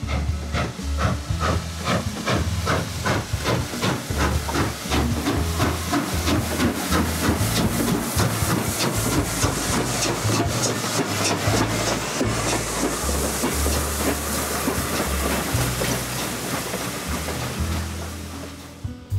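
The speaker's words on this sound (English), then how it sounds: "It's the only Russian decapod running in America, and it's a good locomotive." Russian decapod steam locomotive 1630 at a railway museum, with loud, continuous steam hissing and rapid rhythmic chuffing throughout, heard up close with no talking.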